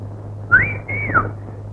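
Someone whistles a short two-part wolf whistle, a rising then falling tone, clear and close, over a steady low hum indoors at a police station.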